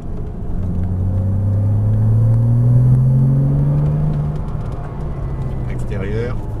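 A Porsche Cayman S engine on a driving track at Fontenay-le-Comte, a steady rumble that rises and falls with gear changes, heard from inside the car with an instructor talking over it.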